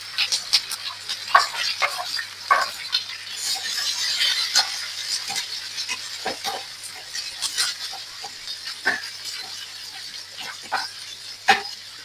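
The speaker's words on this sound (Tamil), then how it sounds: "கடுகு சீரகம் எங்களுக்கு நல்லா பொரிஞ்சு வருது" Mustard seeds and cumin splutter in hot oil for a spicy chickpea sundal, giving a continuous sizzle with frequent sharp pops and crackles at irregular intervals, close by.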